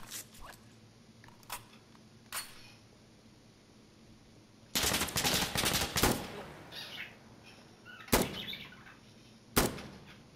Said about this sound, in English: I dropped him with one shot